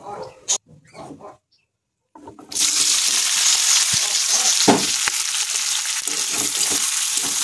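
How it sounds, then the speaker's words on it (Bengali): Marinated chicken dropped into hot oil with cumin, whole garam masala and bay leaf bursts into a loud, steady sizzle after a few quiet moments of clinks and handling, then keeps frying vigorously. "এর মধ্যে এবার আমি আমার ম্যারিনেট করা চিকেনটা দিয়ে দেবো।"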